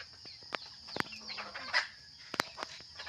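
Chickens cluck and squawk in short, scattered bursts at early-morning dawn against a quiet, hissy background, fairly close by.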